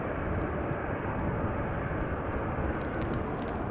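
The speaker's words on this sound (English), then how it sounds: "So that would be the 737-800 going to Geneva." A Boeing 737-800 airliner at Amsterdam Schiphol, in showery weather, is on the runway. Its jet engines make a steady, broad, low roar that holds at an even level for the whole stretch, with no voices.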